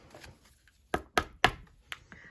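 A cardboard box being picked up and handled gives four or five sharp, hollow knocks in quick succession, close and fairly loud against an otherwise quiet room.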